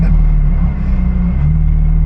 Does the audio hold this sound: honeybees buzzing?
no